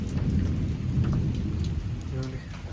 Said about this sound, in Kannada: ಮಳೆ ಬರ್ತಾ ಇದೆಯಲ್ಲ